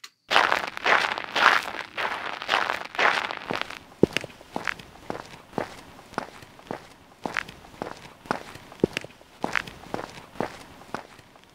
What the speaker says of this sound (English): so now I have my snow footsteps when I'm on snow, and then I switch to the concrete footsteps when I go to concrete